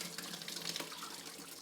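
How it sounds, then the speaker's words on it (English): Water pouring out of an undone laundry bag after hand washing clothes, a faint, steady splashing trickle heard close up, with no talking. "go ahead, undo your bag, and then pour out as much water out of it"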